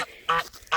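A duck on a farm gives two loud, nasal quacks close by, each short and raspy with a brief pause between them.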